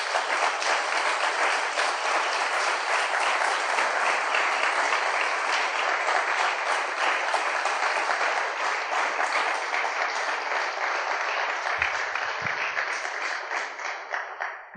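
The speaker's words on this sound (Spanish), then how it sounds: "¿No le parece que merece un aplauso Cristo?" A church congregation gives sustained, dense applause in honour of Christ. The clapping stays loud and even for about fourteen seconds, then fades at the close.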